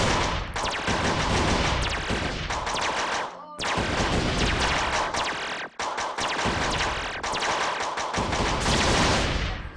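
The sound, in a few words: video game weapon firing everything at once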